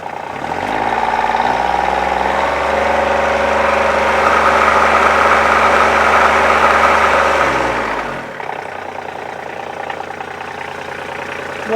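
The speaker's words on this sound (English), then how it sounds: "So as I rev it up," A Polaris Ranger 1000 diesel engine revs loudly and steadily for about eight seconds, its pitch rising and shifting as the gears change, then drops back to a low, quieter idle.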